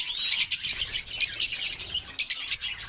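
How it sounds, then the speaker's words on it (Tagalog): African lovebirds chirping, a flock of high, rapid, overlapping chirps and tweets close by, continuous with brief pauses. "Yung ating mga African lovebird, marami na rin, oh."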